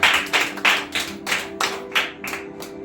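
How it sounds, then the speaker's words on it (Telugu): A church congregation at a Bible study claps in unison, about ten firm, evenly spaced claps in a steady rhythm, with no voices over them. "చప్పట్లు కొడదాం దేనికి"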